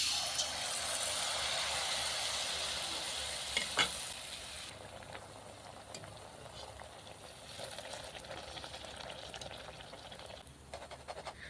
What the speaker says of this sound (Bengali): এভাবে এপিট ওপিট করে ভেজে নেবেন